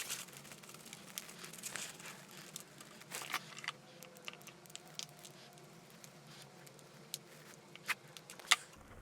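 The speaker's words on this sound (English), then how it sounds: "take a look at the nebari that is starting to form down in here by brushing away the topsoil like I'm doing" Faint, soft scratching and crinkling as topsoil is brushed away from young bonsai roots with tweezers, small irregular patters and occasional light clicks close by, with no talking.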